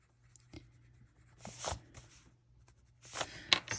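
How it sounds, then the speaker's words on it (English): A Caran d'Ache Full Blender pencil rubbing over colored pencil on paper, soft scratchy strokes in uneven bursts, some brisk and louder, with quiet gaps between. "Okay, so I have this Caran d'Ache full blender here."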